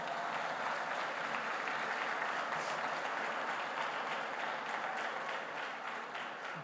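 Congregation applause inside a church service, a thick, even roar of many hands clapping that holds steady for several seconds before easing slightly at the close.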